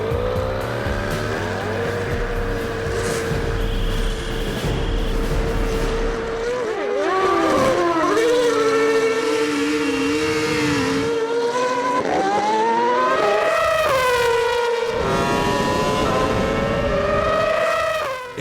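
A Formula 1 car and a motorbike launch into a quarter-mile drag race, loud engine notes climbing and shifting through rising revs as they roar past, with a high whine over deep rumble.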